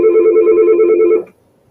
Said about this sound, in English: and your cousin's phone number rang